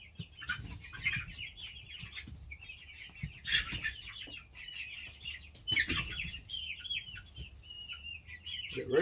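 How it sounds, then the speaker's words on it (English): A rooster and hens, including Brahma and Belgian birds, cluck, squawk and chirp close by in irregular bursts, with occasional wing flaps and soft rustling between calls. "That rooster in there is getting you all worked up"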